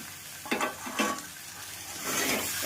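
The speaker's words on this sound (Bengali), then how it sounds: "এবার আমি চিংড়ি মাছগুলো ভেজে রাখা দিয়ে দেবো" Pointed gourd and fried prawns sizzle in spice paste in a pan, a soft, close sizzle broken by a few quick stirring scrapes, with no voices.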